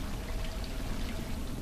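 Continuous rushing, pouring water in the horror game Cry of Fear, a steady broadband wash with no breaks, moderately loud and heard alone without voices.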